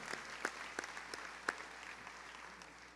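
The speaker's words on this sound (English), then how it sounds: "And one more round of applause for the Rotary Scholarship Endowment." An audience at a community foundation scholarship night gives a steady round of applause, dense even clapping with a few louder claps standing out, filling the whole stretch without talk.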